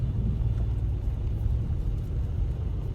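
A manual car pulls away with a steady low engine rumble as the clutch is slowly released, close by and without voices.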